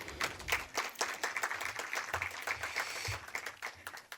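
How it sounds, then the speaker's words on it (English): A theater audience claps steadily for several seconds, a dense patter of hands at moderate distance with no voices on top. "Let's give them a round of applause."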